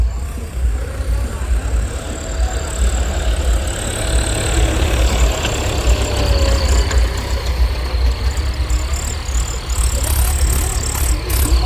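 Farm tractor engine running at idle in an outdoor festival procession, a steady low rumble with a loud, continuous chugging throughout, with faint crowd and background noise.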